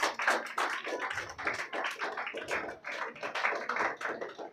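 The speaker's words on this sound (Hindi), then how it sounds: "अब आपको ज़ोरदार तालियां बजानी है सब पार्टिसिपेंट्स के लिए" Audience at a school Republic Day speech and song competition prize ceremony clapping for the participants, a dense, continuous round of applause from many hands with no talking over it.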